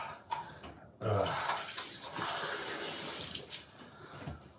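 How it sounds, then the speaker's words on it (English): Water runs steadily from a shower, a continuous broadband hiss with splashing surges that holds for several seconds at close range, with no talking. "I'm going to have a shower."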